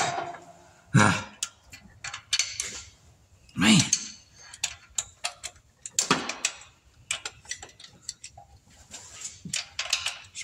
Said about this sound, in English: now I'm going to take all these head bolts off, or out, and the head should come off